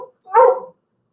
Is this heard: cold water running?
no